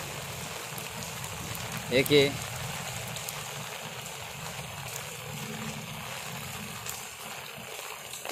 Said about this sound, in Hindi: देखिए अभी इतनी ज़्यादा बारिश हो रही है